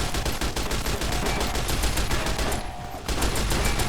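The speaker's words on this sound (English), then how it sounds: "Oh, you got a regular machine gun." Rapid automatic machine-gun fire in a video game, a dense, loud rattle of shots sustained for seconds with a brief lull before bursting again.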